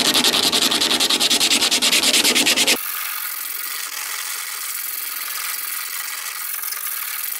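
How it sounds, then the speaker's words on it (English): Fibreglass on a canoe hull is sanded by hand in fast, even back-and-forth strokes, loud and close, which then stop and leave a faint steady hiss. "All that does is actually just flatten all the high spots and makes it easier for sanding"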